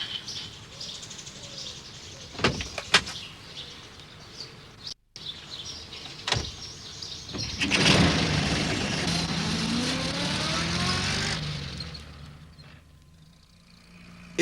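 Postman Pat's cartoon van drives along on a sunny day, its engine swelling into a sustained hum midway, with birds chirping and a few sharp clicks around it.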